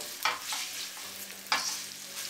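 Chopped onions frying with cumin seeds in a hot pan for chana masala, a steady close sizzle broken by two louder scraping bursts as the mixture is stirred.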